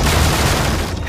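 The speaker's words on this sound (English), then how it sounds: "Suddenly, he raised the machete into the air and pounded it against the door." Heavy, booming thuds of a machete pounding against a door in an animated horror short, loud, dense impacts that run together over about a second.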